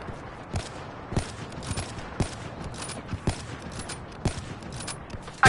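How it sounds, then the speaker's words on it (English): Rapid gunfire in the Black Ops 3 video game, sustained bursts of shots fired at a wall, with crisp, repeated cracks over a steady noisy background. "I'm constantly shooting at the wall right now"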